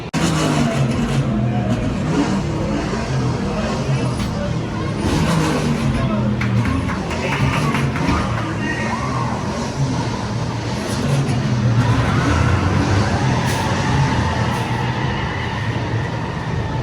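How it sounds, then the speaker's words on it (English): A roller coaster launch at Dollywood rumbles with continuous roaring, whooshing ride effects and mechanical noise, while people talk and shout loosely over it throughout. "the sound effects on the launch are actually working today"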